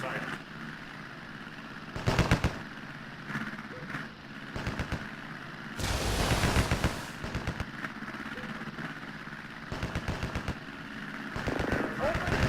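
Gunfire in a naval warfare video game, with repeated bursts of rapid automatic fire and heavier booms over a steady engine-like drone, while voices talk throughout.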